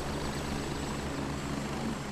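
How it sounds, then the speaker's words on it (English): A helicopter's steady rotor drone and engine whine in the video game Gray Zone Warfare fill the clip, loud and continuous, with no talking. "Oh, there's a helicopter right here."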